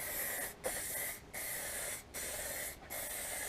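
A spray gun lays lacquer onto the paintwork of a Bandit 1200 motorcycle in four close, steady hissing bursts, each separated by a brief pause.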